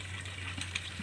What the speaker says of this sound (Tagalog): Tignan po natin yung mga baboy